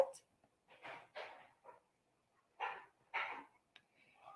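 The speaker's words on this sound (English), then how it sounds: "where is that barking coming from?" A dog barks in the distance in a few short separate bursts with quiet gaps between them, faint and not in a steady rhythm.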